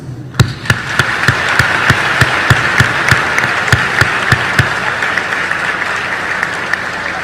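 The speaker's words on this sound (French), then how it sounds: "À vous donc ce concert d'applaudissements." A graduation ceremony audience breaks into sustained applause: a dense, steady roar of clapping with sharper individual claps popping out at a fairly regular pace, loud and close throughout.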